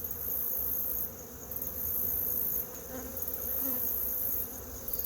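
Honeybees buzzing in a dense, steady drone while two weak hives are merged, the swarm sound close and continuous with slight swells in loudness and no talking.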